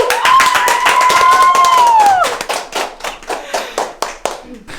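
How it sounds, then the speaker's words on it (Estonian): Applause from a small crowd, dense clapping at first with a voice briefly calling out over it, then thinning into scattered, slower individual claps. "aplaus."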